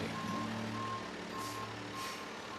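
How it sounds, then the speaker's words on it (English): A bright yellow shredding truck parked at a city shredding day, its reversing alarm beeping in a steady, evenly spaced pattern over a low engine idle, heard at a moderate distance. "We've got the shred truck here."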